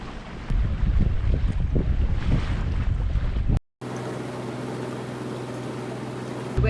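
Sailboat motoring underway at sea, with loud wind buffeting the microphone and water rushing along the hull, then after a brief cut a steadier low engine hum with lighter wind noise.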